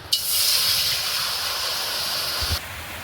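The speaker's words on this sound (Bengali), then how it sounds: "কড়াই বসিয়ে দিয়েছি, কড়াইতে এবার আমি একটু জল দিয়ে দেব" Water hits a hot kadai set on the stove for biryani, bursting into a loud, steady steaming hiss that holds for about two seconds, then cuts off abruptly.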